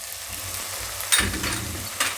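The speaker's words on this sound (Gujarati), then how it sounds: "હવે આપણે એમાં હળદર નાખી દેવું" Steady sizzle of cauliflower curry frying in a pan as turmeric goes in, with a stir or clatter about midway and another brief knock near the end; no talking.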